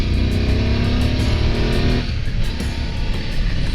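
A 2021 BMW F 850 GS motorcycle engine runs steadily and loudly while being ridden under heavy throttle, a continuous droning roar with wind noise that shifts in tone partway through, with no voices.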